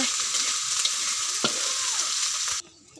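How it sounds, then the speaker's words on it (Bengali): Onion and garlic fry in hot oil, a dense continuous sizzle with a stirring scrape midway, close and steady before dropping away abruptly near the end. "পেঁয়াজ রসুন এখন তেলে বেজে নেওয়া হচ্ছে"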